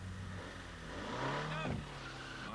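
A Renault 19 Chamade saloon accelerates in a television advert, its engine rising steadily and rising in pitch over music, loud and sustained for a couple of seconds.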